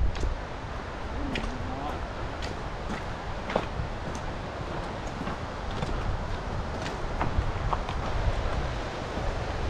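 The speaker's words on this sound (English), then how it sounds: "Not lying about the waterfalls." Waterfalls along the Granite and Blue Lake Trail give a steady, broad rushing roar with wind-like hiss, while occasional voices break through.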